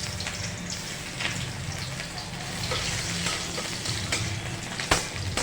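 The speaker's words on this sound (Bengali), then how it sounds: "এবার রসুনটা আমরা তেলে হালকা নাড়াচাড়া করে একটু ব্রাউন করে ভেজে নেব।" Garlic frying in oil for a sautéed water spinach dish, with dried red chilli already in the pan, a steady close sizzle with occasional stirring scrapes and small pops, no talking.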